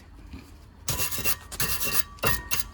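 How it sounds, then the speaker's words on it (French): Wire brush scrubbing a rear brake disc on an Opel Astra, three bursts of harsh scraping strokes close up after a quiet start, with no talking. "Donc on va passer au nettoyage avec la brosse métallique."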